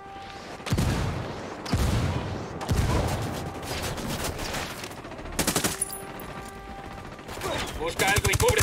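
Heavy booms of mortar impacts in Tom Clancy's Ghost Recon Wildlands followed by rapid bursts of gunfire, loud and close, with rattling automatic fire building toward the end.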